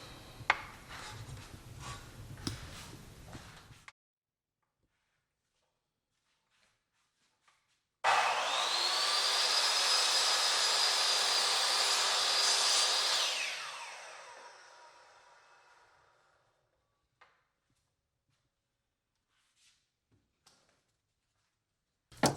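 A miter saw cuts wood trim for a small closet renovation. Some quiet handling comes first, then a gap, then the saw whines up loud for about five seconds. The whine spins down into silence, followed by a few small clicks.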